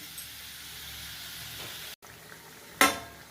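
Pomfret fish are slipped into a pan of simmering garlic gravy, giving a steady soft sizzle and hiss with a brief clatter and a louder burst of frying near the end.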